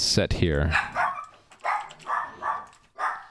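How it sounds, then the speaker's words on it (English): A pet dog barks several times in a home while the children get ready to take her for a walk, sharp excited yips at intervals, with someone speaking over the first bark. "Sorry about the dog barking."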